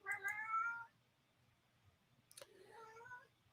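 A domestic cat meows twice indoors, with a drawn-out call at the start and a second, quieter one a couple of seconds later, separated by near silence.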